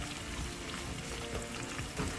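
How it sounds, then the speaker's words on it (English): Steady crackling sizzle of food frying in a pan, continuous and close, with no voices. "Let that fry up a bit."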